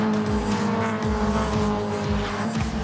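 Caterham 420R race cars racing at the Nogaro circuit, with loud, close engines revving hard through repeated gear changes and a brief squeal of tires.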